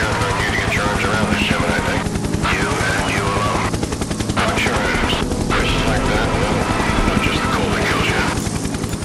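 A helicopter in the Cold Fusion video game chops loudly and continuously, a rapid rhythmic beating mixed with bursts of gunfire and dense game noise, while someone talks over it.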